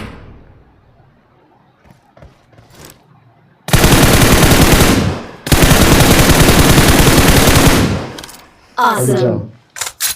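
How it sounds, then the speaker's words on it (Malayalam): Loud bursts of rapid gunfire in Battlegrounds Mobile India (BGMI), two long sustained volleys followed by a few shorter shots, with faint sounds between. "നിങ്ങൾ എവിടെയാണ് വെടി വെക്കുന്നത്"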